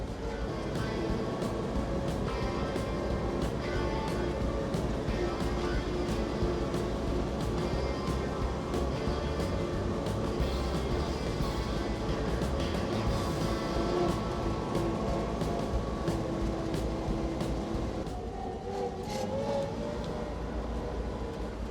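A 1939 Ford barn-find truck drives in fourth gear with slightly dragging brakes. A continuous engine drone carries a whining gear tone that holds steady throughout.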